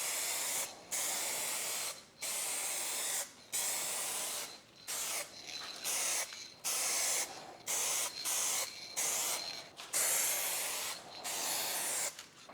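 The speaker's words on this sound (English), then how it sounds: "This is actually spraying very, very well" Spray can paint hisses onto a rusty car body panel being blended, in repeated bursts of a second or two separated by short pauses, close and fairly loud with no talking.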